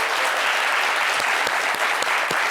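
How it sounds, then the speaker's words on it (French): Studio audience on a French television talk show clapping steadily, dense even applause throughout with a few sharper claps standing out. "On applaudit, s'il vous plaît."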